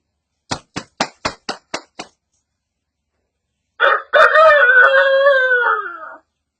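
A blind man mimics roosters crowing at dawn: a quick run of seven sharp clicks, a short pause, then one long, loud, drawn-out vocal crow with a rising and falling pitch, all made by a human voice.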